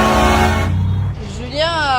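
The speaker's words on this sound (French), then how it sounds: "Klaxonne sans arrêt" A car horn blares in long sustained tones on a roadside near the Guyana–Suriname border, then cuts off and returns in a wavering honk, with traffic noise and a voice speaking over it.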